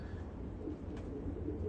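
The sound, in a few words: young racing pigeons cooing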